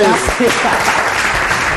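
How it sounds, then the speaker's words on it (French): A burst of audience applause at a comedy show fills the short moment, dense clapping with a few voices briefly audible at the start. "Applaudissez."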